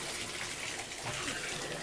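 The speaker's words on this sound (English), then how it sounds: "And you can hear just terrific water pressure." Hot water gushes steadily from a bathtub faucet under strong pressure in an apartment bathroom, a continuous close hiss and splash with no pauses.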